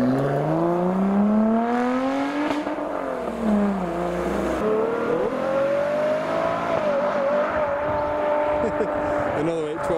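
A Lotus Evora GT410 sports car leaving a car show, its engine note rising and shifting through gears as it pulls away, loud and close at first, with voices audible in the background.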